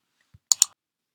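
Quick key press on a computer keyboard entering a terminal shortcut: a faint soft tap followed by two crisp close clicks in rapid succession, then silence.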